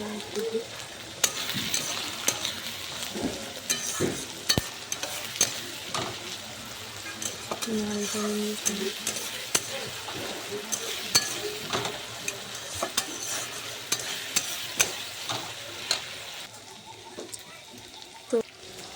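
Continuous sizzling of potatoes frying in a pan, with repeated scraping and clattering of stirring, and people talking nearby.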